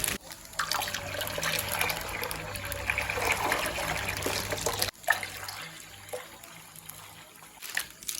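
Pipe water poured into bamboo tubes for making lemang: a steady splashing, trickling pour for about five seconds, then a quieter dribble with a few faint knocks.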